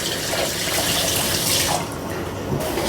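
A kitchen tap runs steadily while tomatoes are washed under it, a close, continuous hiss of water splashing for a few seconds.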